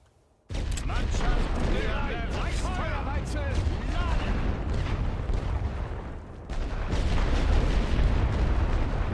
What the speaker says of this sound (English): I'm going to try to hit them with artillery while they're on their way